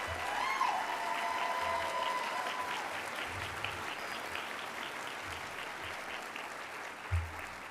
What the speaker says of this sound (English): let's give them up a round of applause for their courage